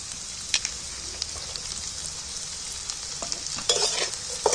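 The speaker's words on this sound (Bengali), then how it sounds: "পেঁয়াজগুলো আমি একটু তেলের মধ্যেই নাড়াচাড়া করে" Chopped onions stirred in hot oil in a pan for a chicken curry, a soft continuous sizzle broken by light scrapes and taps of a spoon, with no talk.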